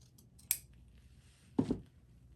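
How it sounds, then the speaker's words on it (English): Scissors snipping a slit in a folded gnome beard, two short crisp cuts about a second apart, close and quiet against near silence. "we're going to take and fold the beard in half and cut a 1-inch slit in it."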